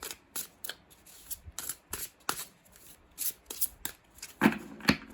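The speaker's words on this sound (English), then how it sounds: "I'm going to give them a good shuffle." Tarot cards are shuffled in quick, crisp riffling bursts, close up, with short pauses between each run of flicking.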